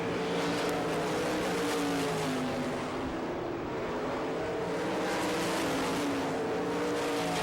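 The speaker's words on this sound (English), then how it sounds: "Down the backstretch continues to be Jason Johnson, your leader, now has 3 lap cars between he and Lance DeWeese" Winged sprint cars race on a dirt track at Barberville, Florida in an All Star Circuit of Champions event, engines roaring loud and continuous as several cars pass close by with a steady, overlapping high-pitched drone.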